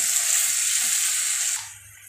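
Red chilli masala for egg biryani sizzles steadily in a pan as it is stirred, a loud continuous frying hiss that drops away sharply near the end.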